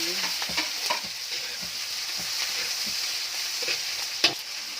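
Garlic, onion and chili fry in a pan with a continuous bright sizzle, punctuated by short scraping and tapping sounds of stirring throughout.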